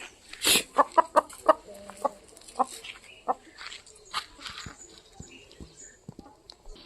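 Hen clucking at a farm where fowl are offered for sale, a burst of close, rhythmic clucks early on followed by scattered softer calls, with other bird sounds faintly around.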